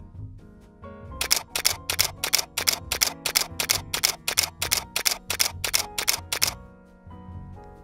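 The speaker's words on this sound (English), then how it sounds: "a slow speed shutter" Burst of about seventeen crisp, evenly spaced shutter clicks from a Canon EOS 6D Mark II full-frame camera at its slower continuous speed, with a quiet room hum before and after.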